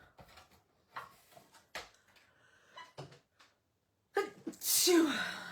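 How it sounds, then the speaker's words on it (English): A single loud sneeze bursts out near the end, following scattered quiet speech and small tabletop handling noises during a card-making session where stamped pieces are being die cut. "I think I've got a sneeze."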